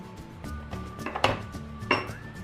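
Egg whites and salt being whisked in a bowl for a Budapest cake, a quick rhythmic run of light clinks and taps with a steady mechanical hum underneath.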